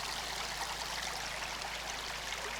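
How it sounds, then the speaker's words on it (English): Water from a stream by a secluded waterfall in Puerto Rico rushes in a steady, soft, unbroken wash with no other sounds. "Man, that sound of the water,"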